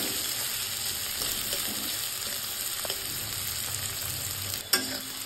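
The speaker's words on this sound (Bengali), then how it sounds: "এবার আমি পেঁয়াজটা দিয়ে দিলাম। পেঁয়াজটা একটু হালকা হালকা ভাজা হয়ে যাবে" Sliced onions frying in a pan for a mutton curry, a steady close sizzle with occasional stirring scrapes and a brief sharp utensil knock near the end, quiet and without voices.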